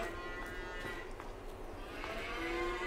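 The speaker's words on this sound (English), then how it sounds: "These cows are looking good." Cattle on a farm low and moo, several drawn-out calls overlapping at moderate distance against a quiet barn background, with no talking.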